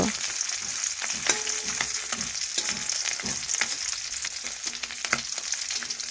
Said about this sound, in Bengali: আমি তেলের মধ্যে এইভাবে দিয়ে দিচ্ছি তাহলে দুটো মাছ ভাজা হয়ে যাবে